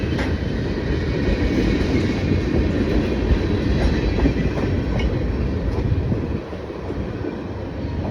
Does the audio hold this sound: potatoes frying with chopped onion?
no